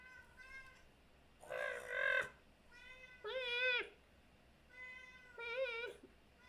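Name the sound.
cat meowing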